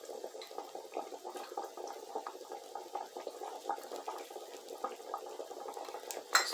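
Hot liquid is poured into canning jars for green beans, a soft, close trickling and bubbling fill that runs steadily and fairly quietly, ending with a brief clink.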